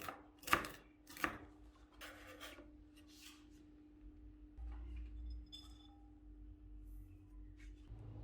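Knife finely chopping cabbage on a board for a cabbage omelette, a few sharp loud chops at the start followed by quieter, rapid irregular cuts and scraping, with a steady low hum underneath.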